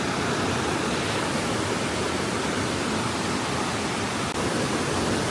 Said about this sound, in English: He's got some pretty fast moving water.